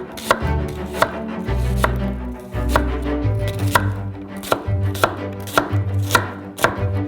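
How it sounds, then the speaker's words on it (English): A knife chops halved onions into small half rings on a cutting board, sharp regular knocks repeating about once per second alongside softer scraping, close and clear with no talk. "Now cut them in half and chop into half small rings."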